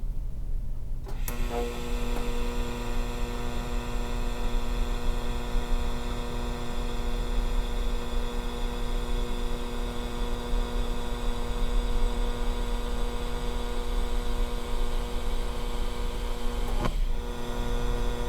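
A TIG welding arc runs on a steel plate with the pedal near maximum, giving a steady, close, even buzzing hum with no break and no voices.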